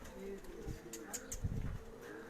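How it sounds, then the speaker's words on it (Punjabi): A racing pigeon lands during a pigeon-flying competition and coos in a few soft, low throaty bursts, faint and close, amid quiet background voices. "9:39 ਦੇ ਆ ਕਬੂਤਰ ਆ ਕੇ ਬੈਠਾ"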